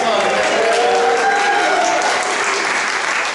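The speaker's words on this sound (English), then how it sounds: "So big round of applause for John." A concert audience applauds a solo, with dense steady clapping that fills the whole stretch, loud and close, and some voices mixed faintly into the crowd.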